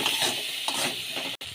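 Tomato, turmeric, cumin and chilli spice paste being sautéed and stirred in a pan for a stuffed egg curry, a soft continuous sizzle with faint scraping of the spoon, briefly cutting out near the end.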